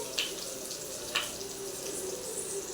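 Sliced onion dropped into hot oil with popped mustard seeds for a simple cabbage dish gives a steady, even frying hiss, with a couple of brief sharp crackles early on.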